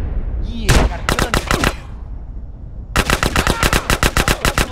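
Gunfire from a gun in GTA San Andreas: a short burst of rapid shots, a pause, then a longer steady string of loud, evenly spaced shots, with a brief voice near the start.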